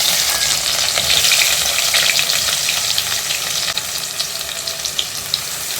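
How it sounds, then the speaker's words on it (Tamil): Onions frying in oil with cumin and fenugreek for a rock fish curry give a loud, steady sizzle with a fine crackle that runs unbroken throughout, with no talking. "இப்போ பாருங்கள் வெங்காயம் நல்லா வதங்கி வரணும்"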